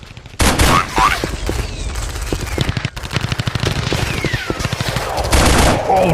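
Rapid automatic gunfire and overlapping bursts from the mobile shooter game Special Soldier, loud and continuous with sharp repeated shots and dense combat effects throughout, no voices.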